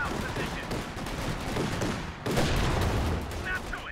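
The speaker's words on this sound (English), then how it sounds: "it's going to start firing at me" Enemy gunfire in Company of Heroes 2: rapid, crackling bursts of machine-gun fire mixed with heavier battle noise, steady and dense, growing a little louder partway through.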